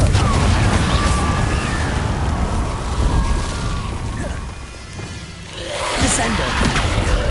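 Fiery Confringo spell blasts in Hogwarts Legacy, a loud booming burst with crashing impacts over dense continuous game noise, briefly dipping before flaring up again near the end.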